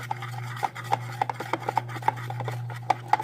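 Soap slime is stirred together with corn syrup, giving soft, repeated wet rubbing and sticky clicks in an uneven rhythm, close up and quiet over a steady low hum.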